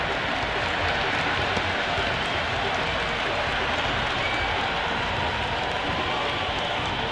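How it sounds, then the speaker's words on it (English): A crowd at a T20 World Cup cricket match between West Indies and South Africa keeps up a constant noisy wash of cheering and clapping, with a commentator talking over it. "the crowd have joined the party. It's pretty noisy at the ground."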